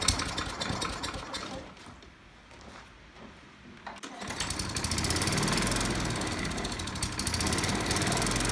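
A small engine on a homemade ComCHOMPinator mower is cold-started for the first time in a year. A few seconds of rough cranking lead to a loud, steady buzzing run nearby.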